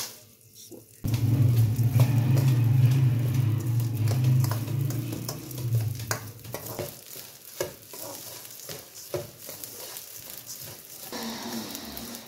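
Edible gum (gond) fries loudly in hot oil in a pan for flaxseed pinni, a strong sizzling roar that starts abruptly and then settles into softer crackling with occasional stirring scrapes.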